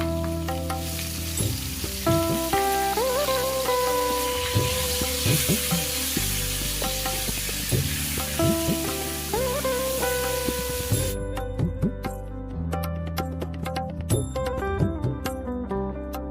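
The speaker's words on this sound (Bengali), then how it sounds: "এবার আমি কেটে রাখা ফুলকপিগুলো দিয়ে দেবো তেলের মধ্যে" Cauliflower florets frying in mustard oil in a kadai with salt, turmeric and chili powder, a steady broadband sizzle running throughout with stirring clatter, overlaid by background music with sustained tones.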